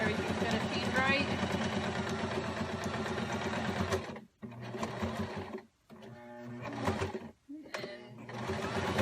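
Sewing machine stitching a tiered hammock, running in loud continuous bursts with a few brief pauses between runs, with talk over it.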